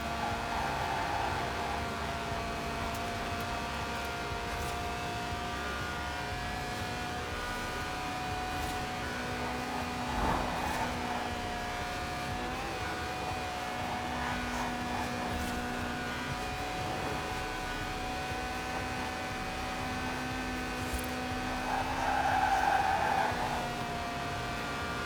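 A steady, droning Lotus 1.8-litre engine, revving to 8,000 RPM, holding a constant pitch, with a slight surge near the end. It sounds somewhat synthetic, from the racing game Forza Horizon 4.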